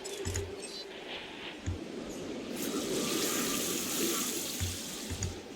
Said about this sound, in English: Add a little bit of water here.